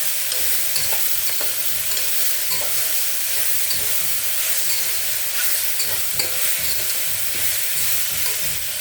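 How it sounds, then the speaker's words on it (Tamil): Soya chunks (meal maker) sautéing in a masala for a boiled-rice biryani give a steady, close sizzle, with light stirring scrapes and clicks running through it, and no voices. "அது போடுறதுக்காக இந்த மசாலாவில் அது கொஞ்சம் வதங்கட்டும்."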